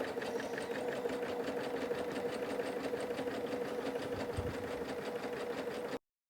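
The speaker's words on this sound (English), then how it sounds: "we'll just go ahead and push the start-stop button and let it stitch out the design" A Husqvarna Viking Jade 35 embroidery machine stitches out a design, a steady, close, rapid mechanical whir with fast regular needle clatter that holds for about six seconds, then cuts off abruptly.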